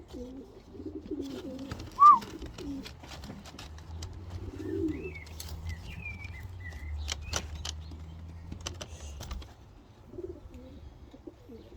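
Pigeons cooing, with soft low coos repeating through the stretch alongside scattered chirps and one sharper call near the start, moderately close in a quiet setting.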